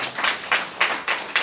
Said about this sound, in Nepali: हाम्रो मण्डलले ताली बजाएर